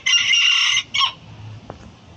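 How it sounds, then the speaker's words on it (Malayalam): A small rooster at a zoo in Malaysia gives one loud, close crow, then a short broken final note, followed by quiet background with a faint click. "ചെറിയ കോഴിയാണ്."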